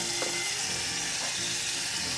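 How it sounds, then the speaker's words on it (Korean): Pork neck fries in hot cooking oil in a pan on medium heat, giving a steady, close, loud sizzle with no talk. "팬과 기름이 달궈지면 목살 300g 넣어주세요"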